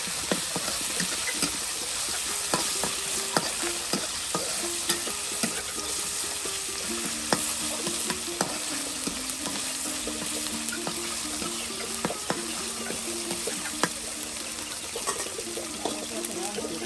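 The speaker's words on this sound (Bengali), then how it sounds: "এই যে এখন আরো বাটা মশলা দেওয়া হচ্ছে। দেখুন, পেঁয়াজ বাটা, রসুন বাটা, জিরা বাটা সব কিন্তু এই যে একসাথে দিয়ে বেশ সুন্দর করে কিন্তু মশলাটা কষিয়ে নেওয়া হচ্ছে।" Onion, garlic and cumin spice paste frying in a pan while being stirred, a steady sizzle with scraping clicks from the spoon, under a faint voice.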